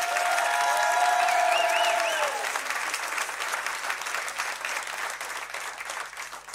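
Dense applause from a church congregation fills the hall, loud and sustained at first, then gradually thinning and fading while the clapping continues; a brief tonal ringing sounds over the opening seconds.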